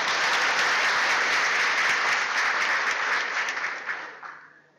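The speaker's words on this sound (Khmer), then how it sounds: "សូមសម្លេងផ្ទះដៃមួយបាទ" Loud, sustained applause from a seated audience at a men's leadership debate forum fills the space, a dense wash of many hands clapping that holds steady for several seconds before thinning and fading out at the end.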